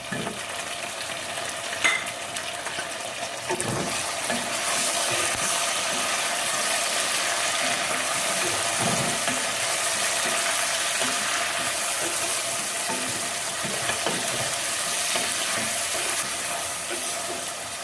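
Mutton pieces frying in a pan with a little salt give a steady, loud sizzle that fills the whole stretch, with scraping and stirring clatter mixed in and no talking.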